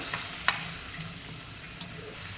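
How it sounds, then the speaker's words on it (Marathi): Onions and tomatoes sautéing in a pan for a sweetish vegetable bhaji give a steady low sizzle, with two sharp spatula clinks standing out near the start and end. "तर आता ह्याला छान परतून घ्यायचं"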